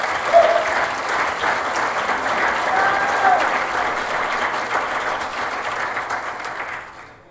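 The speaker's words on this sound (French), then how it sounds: "Une bonne main d'applaudissement." A crowd claps at a golf tournament charity event, sustained loud applause filling the room with a few faint voices inside it before it fades out at the end.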